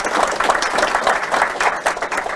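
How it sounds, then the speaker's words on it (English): Spectators at a high school National Signing Day ceremony applaud a football player with a short burst of brisk, continuous clapping, fairly close and loud. "So let's give him a round of applause for that."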